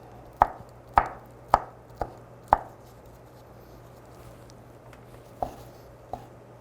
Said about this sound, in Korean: 이 대추는 이제 채를 썬 다음에 다져줄 거예요.